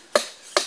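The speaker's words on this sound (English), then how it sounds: "we have somebody breaking up firewood that we gathered" Gathered firewood is broken up at an outdoor cooking fire: two sharp, close chopping cracks about half a second apart, each with a short woody ring, with no talking.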